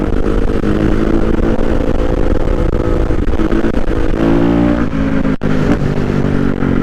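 A Kawasaki KX450F 450 dirt bike engine revs loud and close throughout, holding a steady high roar with rising harmonic tones toward the end and a brief dip near the close, with no talking.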